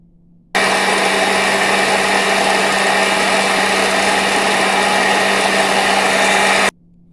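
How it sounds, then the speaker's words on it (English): A kitchen blender runs steadily for about six seconds, puréeing carrots with a cup of water for carrot and oats porridge, a loud continuous whirring motor with a constant hum, starting and stopping abruptly. "I'm just going to blend that till it's completely smooth."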